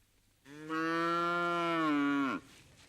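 A single cow gives a long, loud, steady moo lasting about two seconds, rising in at the start and cutting off sharply, heard alone against a quiet rural background in Zimbabwe.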